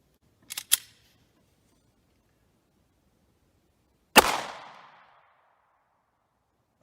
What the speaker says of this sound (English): Next up, we'll try the 30 Super Carry. Shooting from the same distance.